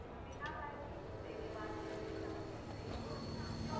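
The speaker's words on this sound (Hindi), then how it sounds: "यही ट्रेन जाती है लखनऊ," A train rolling along the rails in a continuous steady rumble with faint squeals, heard with people talking close by.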